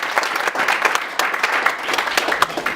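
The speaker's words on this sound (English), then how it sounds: "A round of applause for them." Audience at a business talk breaks into brisk applause, many hands clapping close and loud in an uneven, busy patter throughout with no speech over it.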